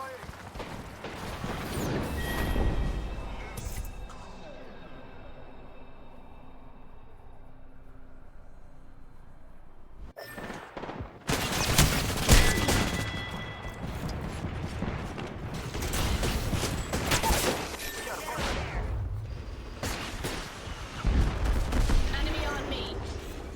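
Video game gunfire crackles during a squad battle in bursts of rapid shots and mechanical clatter, with a quieter stretch before heavy firing resumes, mixed with a voice talking over the action.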